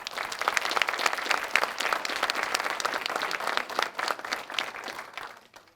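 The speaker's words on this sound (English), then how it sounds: "Please give all of them a round of applause." An audience at a Quilts of Valor presentation ceremony applauds the Quilts of Valor and Quilt Museum staff, a steady, fairly loud round of clapping that fades out at the end.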